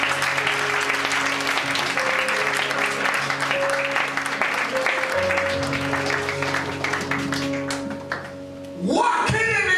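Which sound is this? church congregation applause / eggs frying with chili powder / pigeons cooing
church congregation applause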